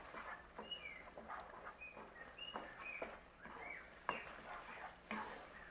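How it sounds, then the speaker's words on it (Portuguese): Short, bright cockatiel chirps and whistles repeat at irregular intervals, moderately close, over a low steady background hum. "estão escutando aí no fundo é o seu Nicolas, meu passarinho, minha calopsita."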